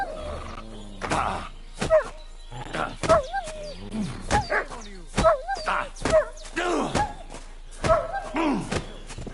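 A wild dog in Kingdom Come Deliverance 2 barks and yelps repeatedly in rapid, uneven bursts, close and loud, mixed with thuds and a voice.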